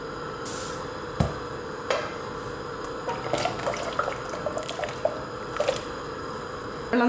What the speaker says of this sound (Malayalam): വെള്ളം തിളച്ച് വരുന്നുണ്ട്.